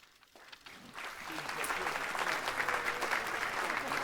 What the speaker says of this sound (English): A very big round of applause for the outgoing managing director of the Geneva International Motor Show